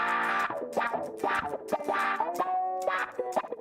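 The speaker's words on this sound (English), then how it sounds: "for some distortion, we've got a skunky wah" An electric guitar runs through wah and distortion effects from the iOS IFX Rack app, playing sustained, gritty chords whose tone sweeps and swells in repeated bursts with no voices.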